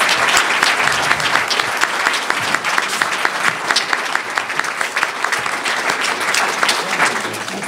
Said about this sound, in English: Let's have a round of applause for all of our candidates.